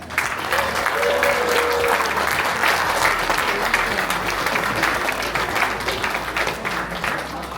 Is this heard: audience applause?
yes